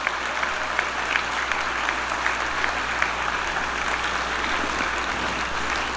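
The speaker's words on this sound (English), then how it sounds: "Please give them a big round of applause." Audience applause at a school system's annual day of reflection, a steady wash of many hands clapping at moderate level, sustained evenly throughout with no talk over it.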